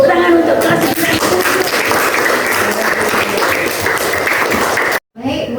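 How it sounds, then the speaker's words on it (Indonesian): A classroom full of people claps enthusiastically after a lesson, dense and sustained for several seconds before cutting off, with voices mixed in. "Tepuk tangan untuk kelas."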